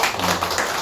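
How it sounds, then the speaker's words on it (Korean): A short burst of applause from a church congregation, clapping loud and continuous throughout. "큰 박수 부탁드립니다."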